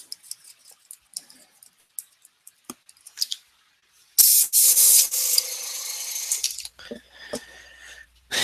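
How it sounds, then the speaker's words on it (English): Rust-colored spray paint hisses from an aerosol can onto a Batman accessory's vents in a steady burst lasting about two and a half seconds, preceded and followed by small scattered clicks and taps of handling. "we're going to spray a little of this color rust"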